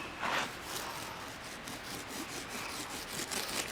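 Steady, gritty scraping strokes of a trowel sawing back and forth over wet concrete at a low level, a continuous rough rubbing texture with no talking.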